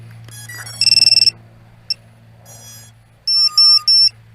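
VIFLY Finder lost-drone buzzer sounding piercing electronic beeps in quick clustered bursts over a steady low hum, loud and close, with no talking.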